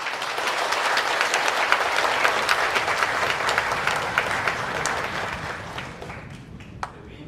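Sustained crowd applause fills a church hall at a Korean Presbyterian pastor's installation service, dense and steady, tapering off near the end.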